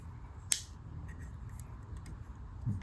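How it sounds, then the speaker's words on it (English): A single sharp metallic snip or click from scissors, close and brief, followed by faint handling noises against a quiet background. "Got a pair of scissors."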